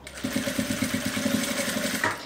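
A sewing machine stitches squares of fabric scraps for a rag rug, a steady fast mechanical chatter running close and continuous for a couple of seconds with no talking.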